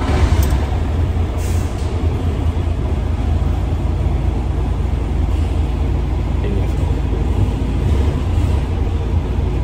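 A DAF CF85 Euro 6 truck diesel engine idles after valve clearance adjustment, a steady low rumble holding even and loud throughout with no break.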